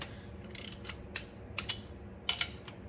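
A wrench torquing down bolts during a NASCAR Craftsman Truck build, while the exhaust and motor are being installed: a handful of sharp, separate metallic clicks spaced irregularly over a low, steady background.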